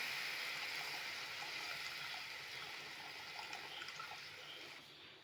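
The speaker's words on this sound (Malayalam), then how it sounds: "അത് പിഴിഞ്ഞിട്ടുള്ള വെള്ളമായത് അതങ്ങോട്ട് ഒഴിക്കാം" Squeezed tamarind water pours into a cooking pot, a steady close watery splash and trickle that runs for about five seconds and eases slightly near the end.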